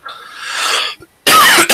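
A person coughs twice in quick succession, a short throaty burst and then a louder, harsher one, close to the microphone.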